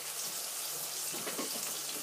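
Tap water runs steadily while potatoes are rinsed under it in a sink, a quiet continuous splashing wash with slight variation as the flow strikes the potatoes.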